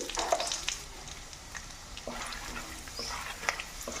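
Nigella seeds and lentil dumplings crackle and sizzle in hot oil for tempering, a soft continuous frying hiss with occasional spoon taps and light stirring, close by with no talking.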